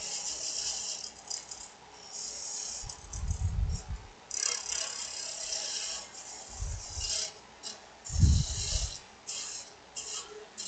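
A wood lathe spins a natural-edge goblet blank while a tool cuts a tenon, giving a steady whirring hum broken by several rough, rasping cutting bursts up close.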